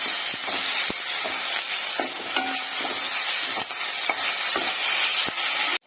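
Ginger paste and half a kilo of chicken fry in oil, giving a steady, close sizzle. Occasional spatula knocks and scrapes against the pan break through the constant hiss.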